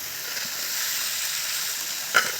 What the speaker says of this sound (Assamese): দুটা চিলিণ্ডাৰত বহাই দিছোঁ, এটাত ভাত বহাই দিছোঁ, এটাত ভাজি বহাই দিছোঁ।